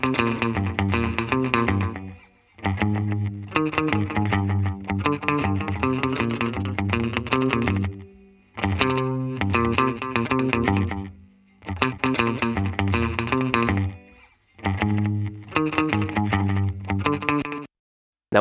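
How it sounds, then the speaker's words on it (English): A distorted instrumental phrase through a Universal Audio Galaxy Tape Echo delay plugin, reverb turned down, plays in loud repeating bursts with short gaps, carrying a smeared echoing tail, ending in sudden silence. "we're just listening to the delay because the volume of the reverb is turned down."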